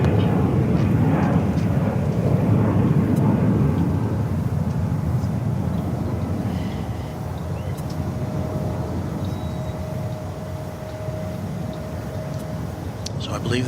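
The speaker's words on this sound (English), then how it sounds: "what you're looking at there is an A321 going to Las Vegas" An Airbus A321 jet airliner at Dallas Fort Worth Airport, a loud, broad engine roar that slowly fades, with a voice talking over it.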